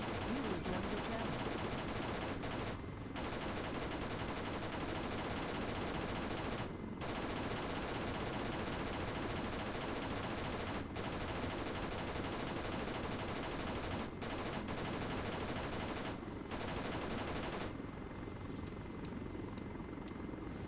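Little Bird helicopter gunfire in a close air support game mission: a dense, continuous roar of rotor and machine-gun fire runs loudly throughout, with short breaks in the firing and no talk heard.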